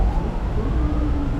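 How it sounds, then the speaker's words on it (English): An ambulance siren wails faintly in the distance over loud street noise, heard from the Wetland Ecological Trail in Taipa, Macau. "I hear lots of ambulances too"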